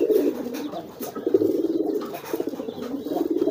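A racing pigeon coos in rapid, throaty bursts, close and fairly loud, with a steady pulsing rhythm across the few seconds.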